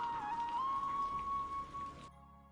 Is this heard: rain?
yes